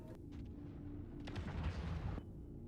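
A torpedo blast tears apart a Polaris capital ship in the Star Citizen space game, a sustained rumbling explosion with crackling debris that swells midway and cuts off abruptly near the end.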